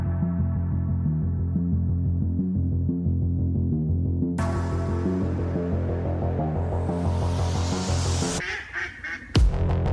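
Ducks or geese quack and honk in a steady rhythmic pattern, loud and close, with a brighter burst of noise joining midway and a few abrupt cuts near the end.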